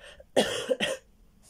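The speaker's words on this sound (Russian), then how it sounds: "Я сейчас уже хочу кашлять" Two harsh coughs in quick succession, close and fairly loud, followed by quiet.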